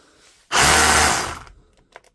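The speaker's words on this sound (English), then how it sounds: "Today we've got this Milwaukee Fuel SDS brushless rotary hammer." A Milwaukee Fuel SDS brushless cordless rotary hammer with a loose, wobbly battery runs in one loud, close burst of about a second, then winds down, followed by faint clicks.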